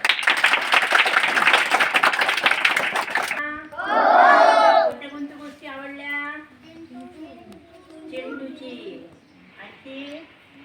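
Primary schoolchildren seated in a classroom clap together in a loud, dense burst for about three seconds, then a sudden loud shout or cheer follows and adults talk afterward.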